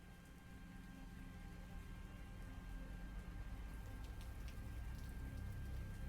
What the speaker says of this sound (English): Oh, nice rainy night.